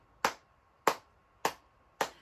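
Four sharp hand claps ring out one at a time at an even, unhurried pace during a toddler storytime game, each crisp and fairly close, with quiet between them.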